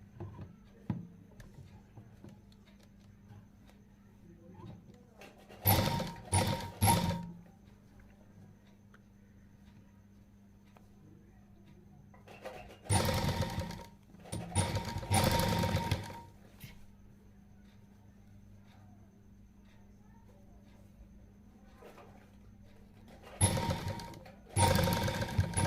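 A sewing machine stitches an invisible zip onto a blouse, running in four separate bursts of rapid mechanical chatter, each lasting about one to two seconds and separated by long, quiet gaps with a faint hum.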